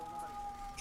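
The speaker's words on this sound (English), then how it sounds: "this siren is like acting like a cat, just making all the noise" A malfunctioning siren holds a steady, thin wailing tone beneath faint background voices in a brief, fairly quiet snippet.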